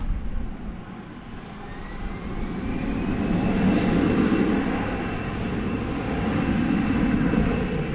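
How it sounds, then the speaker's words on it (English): An Airbus A320 jet airliner, built in 1998, on approach at a busy international airport, giving a steady, loud engine roar that builds and holds throughout with a faint whine on top, and no talk. "That was Delta Flight 420 coming in from Los Angeles, Airbus A320."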